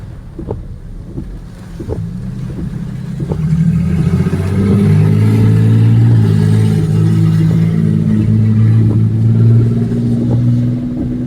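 Loud car engine lacking a muffler, heard from a balcony in Clearwater, revs up into a sustained, rough low roar after a few seconds and holds steady, with wind buffeting the microphone throughout.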